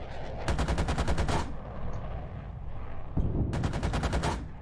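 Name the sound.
tank gunfire in the video game Gunner HEAT PC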